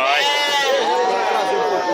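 Goats bleat repeatedly at a goat and sheep livestock fair in Tabira, Pernambuco, with close, loud wavering cries overlapping one another.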